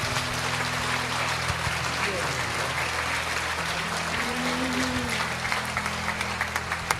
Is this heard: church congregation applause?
yes